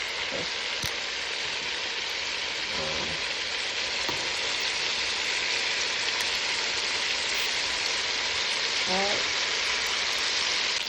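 Chicken pieces for Jamaican brown stew frying and browning in oil, a dense, continuous hiss and crackle like steady rain, close and even, with a few faint tonal squeaks and no speech.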